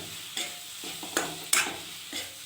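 Green peas and cabbage sizzle in a pan while a utensil stirs them in several brisk scraping strokes, close up, with no talking.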